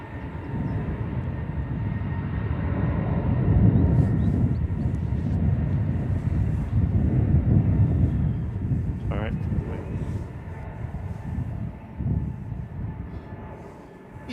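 An EasyJet Airbus A320neo departs Manchester Airport on a cold, windy morning, its engines a broad low rumble that swells and slowly fades. Voices talk faintly beneath it.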